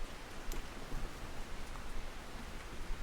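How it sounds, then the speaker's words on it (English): Steady rain falls at night in the fishing game Russian Fishing, a dense even hiss with scattered drop ticks, continuous and moderately quiet, with no voices. "It is dark out and it's raining."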